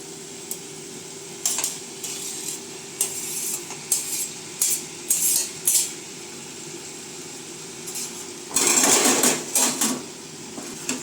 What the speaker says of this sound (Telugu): టమాటాలు వేసుకున్నాక ఒకసారి మొత్తం కలిపేసి మూత పెట్టాలి